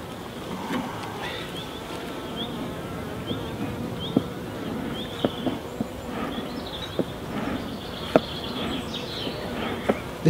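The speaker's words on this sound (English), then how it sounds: "Ooh, a lot of bees in there." A low, even hum from bees busy in a nucleus box runs throughout, with faint higher whines and a few soft clicks of handling.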